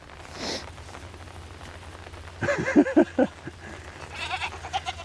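Goats bleat several times in a short burst, close by, over a steady patter of rain; a fainter bleat or two follows.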